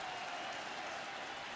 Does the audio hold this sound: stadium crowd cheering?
yes